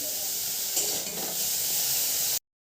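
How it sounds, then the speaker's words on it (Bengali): Potatoes and tomatoes frying in a pan give a steady, loud broadband sizzle that holds evenly for about two seconds before cutting off abruptly, with no voices. "এবার আলুটা ভাজবো, আলু আর টমেটোগুলো"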